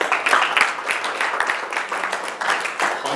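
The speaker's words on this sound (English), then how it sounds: "Let's give him a round of applause" An audience claps at a talk event, a moderate, uneven patter of applause that stays fairly light and continues throughout.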